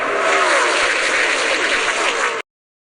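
Race cars roar away at the start of a NASCAR race on the St. Petersburg street circuit in the NASCAR Racing 2003 video game, a loud, dense engine drone that cuts off abruptly.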